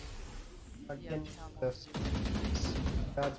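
Gunfire in a Valorant-style tactical shooter match between Fnatic and Team Liquid, a dense burst of rapid shots from about two seconds on, with a commentator talking over the earlier part.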